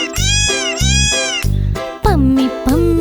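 A cat meows several times in a row, loud and close, over a bouncy rhythmic children's song backing.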